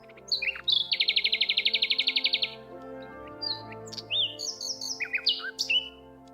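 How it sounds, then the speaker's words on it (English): A bird calls up close in a quiet setting: a fast, evenly pulsed trill of about a second and a half, then a scatter of short, bright chirps and twitters. "I'm here with Ricardo the bird"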